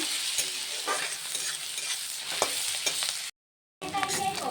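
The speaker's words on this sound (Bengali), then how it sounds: "এবার দিয়ে দেব কুচি করা পেঁয়াজ বেশ লাল করে বাদামি করে ভেজে নেব" Chopped onions with a bay leaf frying until brown in oil for a duck egg curry, loud continuous sizzle with repeated scraping stirs, a brief drop to silence near the end before the frying resumes.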